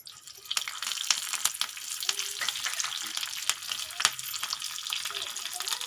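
Mustard seeds and curry leaves splutter in hot oil, a dense crackling sizzle with sharp pops scattered throughout, close and steady with no talking.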